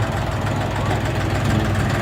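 A Lovol 244 mini tractor engine with a cab chugs steadily at low revs, a continuous close rumble with a faint knocking rhythm and no voices.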